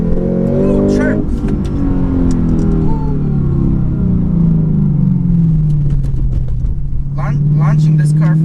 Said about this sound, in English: Launching this car from first gear is like a dream come true.